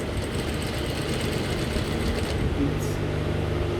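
A sewing machine runs steadily, stitching trouser fabric while sewing a zipper fly, with a continuous dense motor whir and rapid needle rattle throughout, close and fairly loud.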